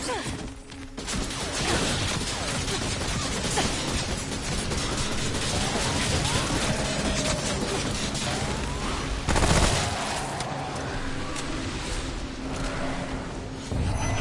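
Two cannons fire continuously in the video game Remnant from the Ashes, a dense, loud barrage of blasts and impacts with a sharp boom near the middle, set among chaotic combat noise.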